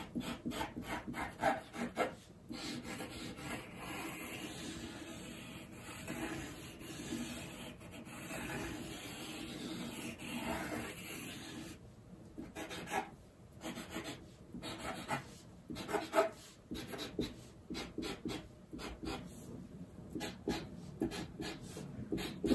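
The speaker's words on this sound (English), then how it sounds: "then pressing the tip down into the paper." A marker tip pressed and dragged across paper while drawing a mandala, giving a steady close scratchy rubbing with short pauses between strokes, no voices.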